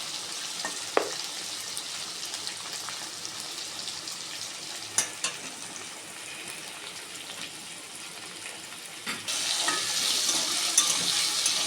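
Potatoes sizzle steadily in a hot pan, with a few sharp clinks of stirring; the frying grows a little louder near the end.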